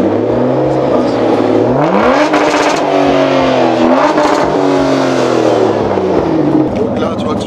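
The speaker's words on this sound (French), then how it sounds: "ça sort vraiment le son du V12 pour le coup" An Aston Martin DB9 Volante with a Mansory-tuned V12 climbs in revs under load, a smooth rising engine drone heard from inside the car over steady road noise, with people talking over it.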